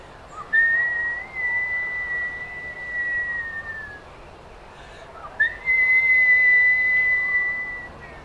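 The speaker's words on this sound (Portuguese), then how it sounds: "E se você assobiar bem assim" Two long, clear whistled notes, each held steady then sliding slightly down, separated by a brief pause, with quiet outdoor background.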